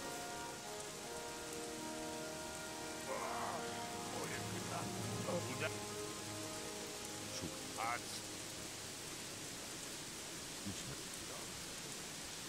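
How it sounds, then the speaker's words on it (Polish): Steady, dense rainfall hisses throughout, with occasional louder drips and faint background tones, no voices; rain in the video game Gothic 3. "czemu znowu ten deszcz pada pieprzony?"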